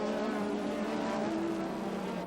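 Formula 1 race cars roaring at the start of the 1985 Austrian Grand Prix at Zeltweg, a loud, dense blend of engines at full throttle held steadily throughout with no break.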